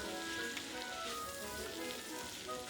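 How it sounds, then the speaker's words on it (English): Mushrooms sautéing in a pan for risotto, a steady soft sizzle that holds even and fairly faint throughout. "you just basically want to saute these real good until they're kind of tender"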